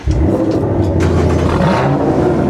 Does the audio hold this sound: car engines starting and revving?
yes